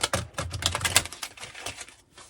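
A tarot card deck is shuffled close up, a rapid run of crisp riffling clicks and flutters that thins out toward the end, with no speech.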